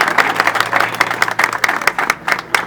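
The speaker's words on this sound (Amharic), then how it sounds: "እስቲ ሞቅ ባለ ጭብጨባ እንኳን ደስ ያለ በሉት በድጋሚ" Audience applause at a car award ceremony, a dense, steady burst of many hands clapping together that swells and dips slightly across the moment, loud and close with no talk over it.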